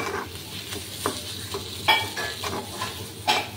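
A salted bhorta mash stirred in a frying pan: a soft sizzle under repeated scraping strokes of a spoon against the pan, with several distinct scrapes spread across the few seconds.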